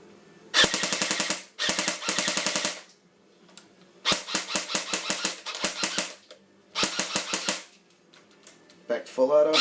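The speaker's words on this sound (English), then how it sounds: "Now let's see if we can't give you guys a little rate of fire test here." An airsoft UMP gun fires several long full-auto bursts in a rate-of-fire test, each a fast, loud mechanical rattle with short pauses between, close to the listener.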